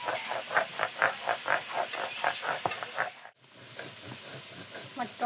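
Tomato paste sizzles and fries in a pan with repeated stirring scrapes at a steady rhythm, close up, with a short dropout partway through and no talking.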